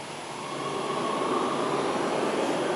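A metro train ride gives a steady rumbling hum of the carriage in motion, rising slightly over the first half second and then holding at a moderate, even level.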